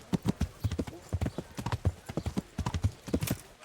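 Horse hooves clip-clop in quick, uneven bursts in the medieval game Kingdom Come: Deliverance, close and fairly loud, with a brief whinny and other sounds mixed in.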